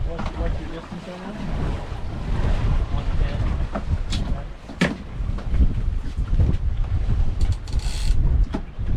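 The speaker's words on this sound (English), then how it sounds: "Lots of wind blowing." Strong wind roars over an open boat on rough, whitecapping big water during a catfish tournament, with constant low rumble and buffeting gusts throughout, and people talking under the noise.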